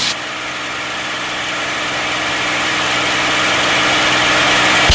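A Mustang aircraft engine with the throttle pulled back to a lower power setting drones steadily and loudly throughout, a dense, continuous roar that swells slightly toward the end, with no talking.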